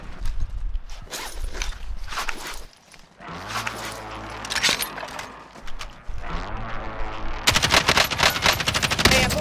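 Video game gunfire crackles in rapid bursts of shots with sharp clicks and footstep-like taps between them, loud and close, with a dense sustained volley near the end.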